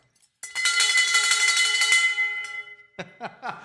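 A bell rings out with a quick series of bright metallic strikes that ring and fade over about two seconds, followed by brief voices.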